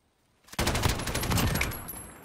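Sustained burst of heavy machine gun fire in the Modern Warfare video game, a dense rapid fusillade that begins abruptly after brief quiet and continues loudly for about two seconds before tapering.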